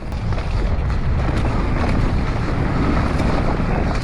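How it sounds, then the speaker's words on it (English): Strong wind on a hillside enduro bike trail, a loud continuous roaring rumble and buffeting across the microphone throughout, with no speech. "That wind is really noticeable on this side of the hill."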